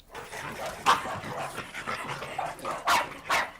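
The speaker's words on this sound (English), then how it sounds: "from dogs that bark" Several dogs bark, yip and whimper in a lively, irregular burst, fairly close and loud, the barks overlapping in a busy home full of rescued dogs.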